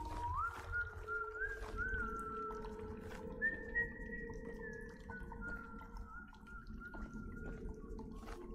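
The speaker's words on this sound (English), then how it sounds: "Whistle sounds louder." The train whistle in the video game Choo Choo Charles sounds as long sliding, wavering tones that rise and hold over a low rumbling background, fairly quiet and continuing for several seconds.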